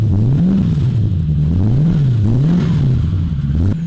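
A turbocharged 1UZ-FE V8 in a Lexus LS400 revs repeatedly through a side pipe exhaust, its deep loud note rising and falling in a steady wave of blips, close by with no talking.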